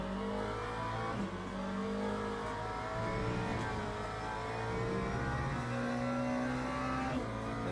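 A race car engine drones steadily with shifting revs through a warm-up lap at Sebring in Le Mans Ultimate, loud and continuous with no talk.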